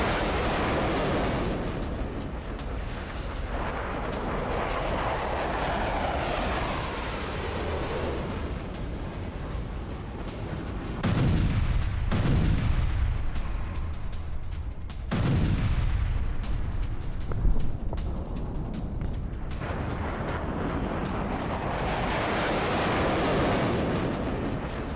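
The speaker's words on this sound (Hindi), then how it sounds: "दिखाइए यूक्रेन का बेलगोरोड पर गाइडेड बॉम्ब से हमला" Guided bomb attack on Belgorod, heard as continuous heavy rumbling with deep booming explosions swelling around the middle, loud, dense and sustained, with no voices.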